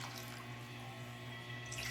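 Coconut milk pours steadily into a pot while biko, a Filipino sticky rice dessert, is being cooked, giving a continuous close liquid splashing and trickling.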